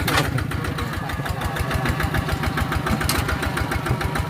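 Toyota Vigo pickup truck engine labouring in low gear on a farm track, a steady close rumbling drone with rhythmic knocking pulses running continuously without a break.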